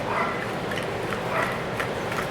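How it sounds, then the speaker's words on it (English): A dog barks in another room during home cooking, a few faint, muffled barks set well back under steady room noise. "Don't mind my dog barking in the back."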